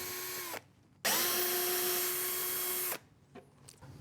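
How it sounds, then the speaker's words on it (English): A power drill backs screws out of the layers of a router table in a workshop, with a short whir, a pause, then a longer steady high whine that stops abruptly, followed by faint clicks. "The process starts by removing all the screws from the first two layers."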